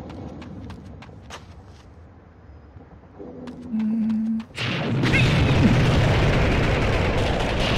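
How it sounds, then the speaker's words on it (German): Enemy gunfire in the PlayStation 1 game Army Men 3D among narrow streets starts as scattered sharp cracks, then a tonal hum. A loud sustained roar of shooting and explosions follows, with no talking. "Okay, die schießen auch auf mich."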